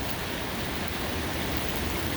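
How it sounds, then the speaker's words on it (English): Steady rain from a sudden Southern California storm bringing hail, a dense, even wash of hiss that holds at a constant level throughout, with no separate impacts standing out and no talking. "Storm out of nowhere, bringing some hail to SoCal."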